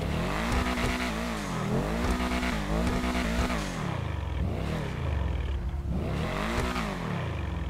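An Obey 8F sports car engine in Grand Theft Auto V Online revs hard again and again, pitch sweeping up and dropping back in repeated cycles, loud and close with no talking.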